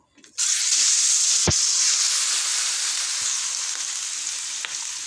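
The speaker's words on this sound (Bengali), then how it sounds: "ওটার মধ্যে আমি এটা মাংসটা দিয়ে দিচ্ছি, একসাথে সব কটা দিয়ে দিলাম।" Steady, loud sizzling of chicken frying in a hot pan, starting abruptly and continuing throughout with a couple of brief clinks.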